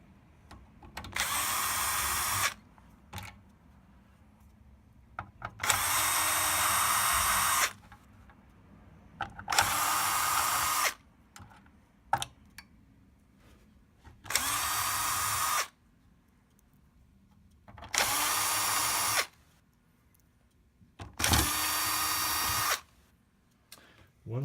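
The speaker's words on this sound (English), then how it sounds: "Now you're going to take out 6 Torx T10 screws that are the silver screws holding the power supply in place." A power screwdriver backs six Torx T10 screws out of a TiVo Series3 power supply, making six loud, whirring bursts of a few seconds each, separated by short quiet pauses.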